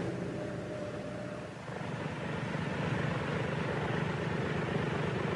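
A Grumman fighter aircraft's piston engine runs while taxiing, giving a steady, loud, throbbing drone that swells slightly partway through and carries on without pause.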